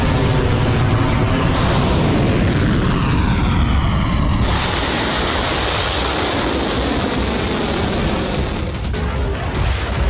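An Israeli fighter jet roars loud and close over Lebanon, a continuous rushing engine blast that shifts pitch as it passes, with a heavy boom-like swell partway through.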